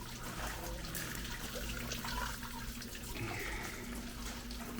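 Water from a spring discovered in 1513 runs steadily into a cup, a faint, constant splashing trickle with no talking.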